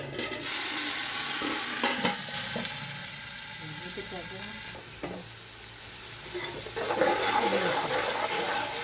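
Water hits a hot pan of cooking mutton for yakhni pulao with a loud, steady sizzle and bubbling that swells and fades, with a few clinks of stirring.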